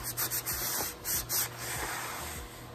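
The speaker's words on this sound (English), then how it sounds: "Make sure you rub it in really good." Finish is rubbed by hand into a wooden jewelry storage piece, making close, soft rhythmic swishing strokes in quick bursts, several in under three seconds.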